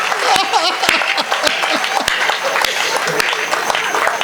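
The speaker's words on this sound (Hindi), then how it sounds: "बंसाली जी के जवाब पर ताली बजाना।" An audience at a Hindi poetry gathering claps, a dense patter of many hands that runs steadily throughout, loud and close with some crowd murmur mixed in.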